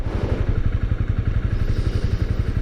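A Honda CB250R motorcycle with a single-cylinder engine runs close and loud, its rapid, even thumping pulse holding steady throughout.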